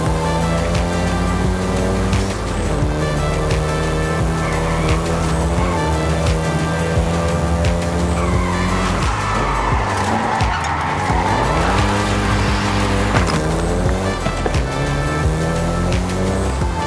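A Volkswagen Golf GTI hot hatch revs hard in Forza Horizon 5, its engine note rising and falling through gear changes, with tire squeal and skidding in the middle. The loud, continuous game audio plays with no speech.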